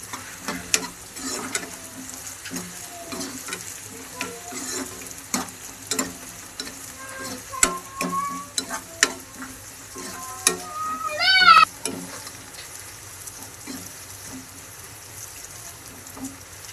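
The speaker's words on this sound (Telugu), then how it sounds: "ఇదిగో ఉల్లిపాయలు ఇప్పుడు బ్రౌన్ కలర్లోకి వచ్చేవి" Onions and curry leaves fry in a pan, a steady close sizzle broken by scraping stirs and sharp spatters, with faint speech in places.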